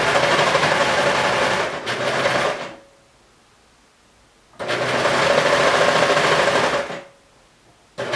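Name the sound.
sewing machine stitching a T-shirt seam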